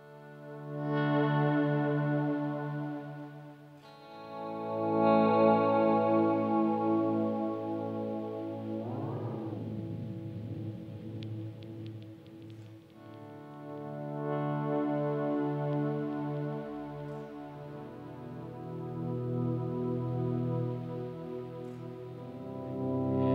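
Sustained electric guitar chords swell in softly through a Strymon DIG delay pedal, with wobbling modulation and delay repeats, including a pitch-sweeping, warbling passage, smooth and layered.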